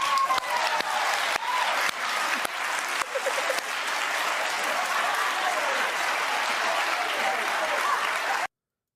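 A television talk-show studio audience bursts into loud, sustained applause that carries on evenly for about eight seconds before cutting off abruptly.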